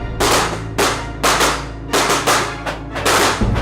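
Firecrackers go off in a rapid series of loud, sharp bangs at close range, about seven blasts spaced unevenly over a few seconds with no talk.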